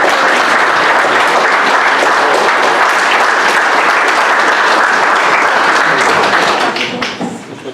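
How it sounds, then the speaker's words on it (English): A wedding ceremony audience claps in sustained, dense applause, loud and close, which fades out near the end. "Give him a round of applause."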